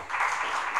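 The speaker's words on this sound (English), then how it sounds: "We give her a nice clap." Audience clapping at a launch event for a communications network of Catholic sisters in a Nairobi hotel, brief and steady, heard close.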